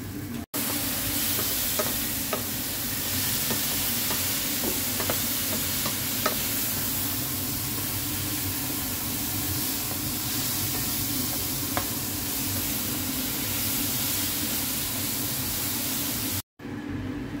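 All-purpose cream with sautéed onion simmers in a pan, making a continuous hissing sizzle with scattered small pops and faint clicks throughout.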